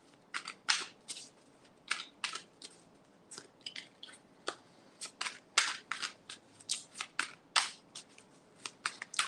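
Tarot cards shuffled by hand, a steady run of crisp riffling snaps and slaps, close and fairly loud, repeating in quick irregular bursts with no talking.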